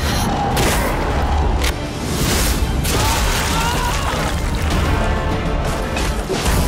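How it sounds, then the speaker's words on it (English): A light bomb goes off in the video game Nosgoth, a luminescent explosive blast against vampires. Loud, dense booming and crashing with whooshing bursts runs continuously through the whole stretch. "Its explosion triggers a powerful blast of light that wounds vampires instead of blinding them."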